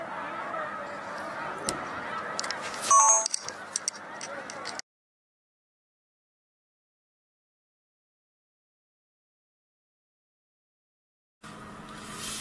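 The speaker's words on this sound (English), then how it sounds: "Love the snow geese." Snow geese honking outdoors for about five seconds, a dense overlapping flock chorus with a few louder calls near the middle, then a long silent gap before the honking briefly returns at the end.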